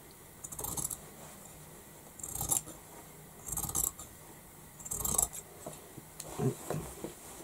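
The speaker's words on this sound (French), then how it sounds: "celui-là, je vais le couper pour que mon éponge soit bien plate. Donc je coupe à ras" Scissors snip through the hem of terry sponge fabric, cutting flush to remove it, in a few separate crisp bursts of cutting with quiet pauses between, close and fairly soft.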